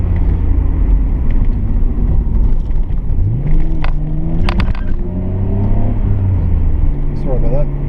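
Twin-turbo engine of a 1990 Nissan Skyline R32 GTR on a test drive, a steady loud drone and rumble rising in pitch as it boosts, with whirring turbo tones over the roar and a voice briefly talking.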